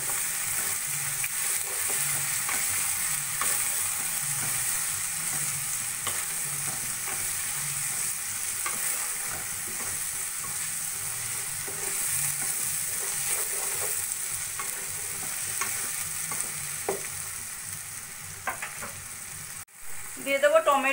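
Cumin powder, turmeric, salt and ginger-garlic paste sizzle steadily in a hot pan while being stirred, the close frying hiss continuous with soft scraping strokes.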